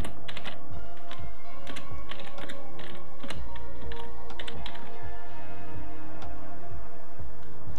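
Fast, steady clacking of keys on a computer keyboard as a command is entered on a Windows PC, close and crisp, with a rhythmic string of presses and no talking.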